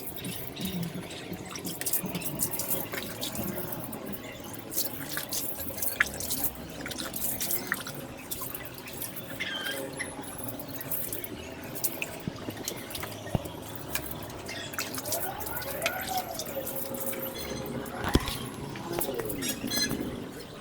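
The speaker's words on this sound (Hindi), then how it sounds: "मैं पानी से धो के आपको दिखाता हूँ।" Water splashes and drips steadily while a Yamaha RX 100 motorcycle is rinsed, with a continuous spattering wash and scattered sharp drops running throughout at moderate level.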